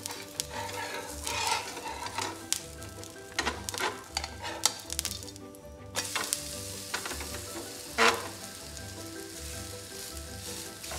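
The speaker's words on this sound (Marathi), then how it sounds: "आता आपण दुसऱ्या बाजूने भाजून घेऊया." A tomato rava omelette fries on its second side, sizzling steadily at moderate level with scattered spatula scrapes and taps against the pan; no voices.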